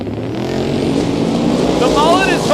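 Cleetus McFarland's Mullet drag car launches hard down the strip at Sick Week 2022, its engine roaring loud and sustained with rising revs, while a commentator talks over it.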